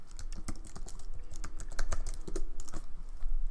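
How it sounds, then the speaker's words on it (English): Rapid, uneven clatter of keys on a computer keyboard as a password is entered on a Linux system, close and fairly loud, with no talk. "Once I type that in, it should allow me access."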